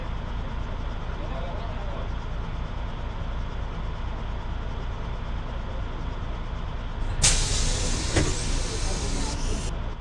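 Steady, continuous engine drone of a bus in a desert highway bus driving simulator game, holding level throughout before a brighter, louder burst of noise near the end.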